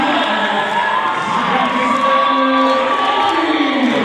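A basketball crowd at a men's college game against Hunter roars and cheers steadily as a player checks in, with loud sustained whoops and shouts filling the gym throughout.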